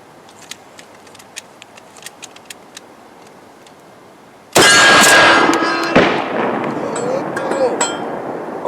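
A Mossberg Shockwave shotgun fires a magnum slug from the hip. Faint ticking comes first, then a single loud, close blast with a long, rumbling, echoing tail.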